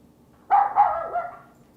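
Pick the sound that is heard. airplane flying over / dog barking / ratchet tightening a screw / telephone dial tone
dog barking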